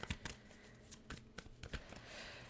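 Tarot cards shuffled for a weekly reading, quick riffles and light papery taps in uneven clusters, quiet and close, ending in a softer rustle.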